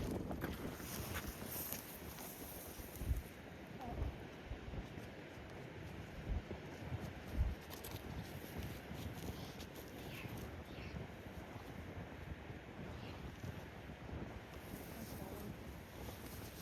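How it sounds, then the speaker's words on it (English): Steady wind buffets the microphone in a continuous rushing roar on the Scottish hill An Sochach, with occasional louder gusts and no voices. "Still got a wee bit of a breeze now"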